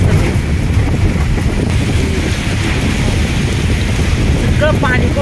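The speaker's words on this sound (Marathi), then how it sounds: "सगळं पाणी कोसळतंय आता" Monsoon rain water pours down at Malshej Ghat during heavy rain, a loud steady rushing wash with wind buffeting the microphone throughout.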